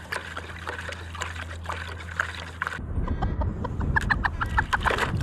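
Lukewarm water mixed with Epsom salt in a bucket is stirred by hand, with trickling and sloshing splashes close by, growing busier toward the end, and a few soft hen clucks in the background.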